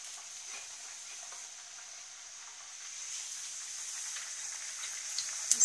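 Buckwheat flour puri frying in hot ghee: a soft, steady sizzle with fine crackle throughout, fairly faint and close, with a few small clinks near the end.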